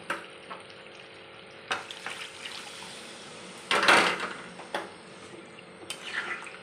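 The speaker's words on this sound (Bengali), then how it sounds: "এবার আমি জল দিয়ে দেবো" Water poured into chicken curry in a pot makes a sizzling, liquid rush with a loud burst in the middle, framed by quieter frying sizzle and occasional stirring knocks close by.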